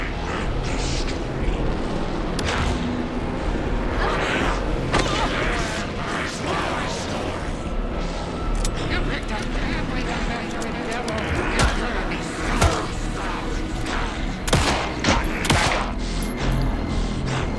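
Gunfire in the survival horror game Alan Wake 2, with repeated sharp shots and bursts over a dense, rumbling game soundscape while people talk throughout.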